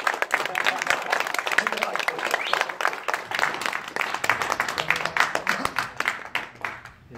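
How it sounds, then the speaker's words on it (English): A crowd at an activist gathering claps in a fairly dense burst of applause that stays strong for several seconds, then gradually thins and tapers near the end. "Big round of applause, everyone."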